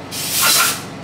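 A single close burst of brake cleaner sprays onto a busted motor grader chain drive, a loud airy hiss that swells and fades in about half a second.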